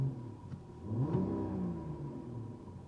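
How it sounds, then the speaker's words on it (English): A Mercedes-Benz CLE coupe with a six-cylinder engine revs a few times at moderate volume, each rev rising and falling in a smooth mid-pitched sweep over a steady low engine hum. "just rev the car a few times and just listen to the sound"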